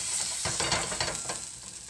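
Quesadilla with cheese and onions sizzling in a pan while being swished around, a loud close hiss with a few short scraping stir strokes.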